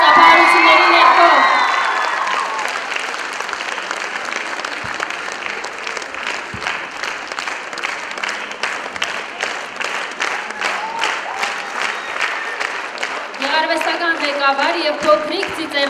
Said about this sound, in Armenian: բարձր ծափահարությունների ներքո